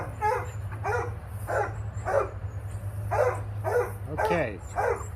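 An agitated dog barks repeatedly and close by outdoors, a fast run of sharp barks mixed with whiny yips over a low background hum.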